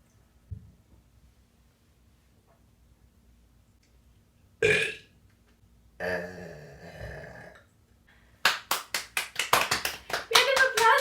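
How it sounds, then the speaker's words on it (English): After soup, a person lets out a loud, rough burp standing alone in near silence, followed by another drawn-out burp, then a rapid burst of clapping hands. "gotta burp to make some room."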